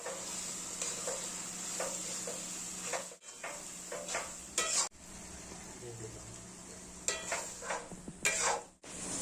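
Fried potatoes coated in poppy seed paste are tipped into a hot pan and stirred, with a steady sizzle under repeated scraping strokes of a spoon against the pan, close and clear.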